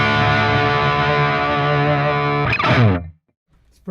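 High-gain distorted electric guitar through channel 1 of a SonicTone Loyalist three-channel tube amp, a loud sustained chord ringing, then a quick scraped flourish and abrupt mute into near silence.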